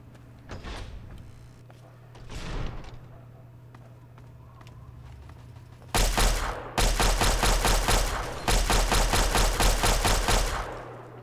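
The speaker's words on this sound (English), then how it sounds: "I'll bust the laser pistol for a bit." Laser pistol fire in Fallout 3, a run of rapid, loud, sharp energy-weapon bursts in close indoor quarters, preceded by a couple of softer swooshing sounds.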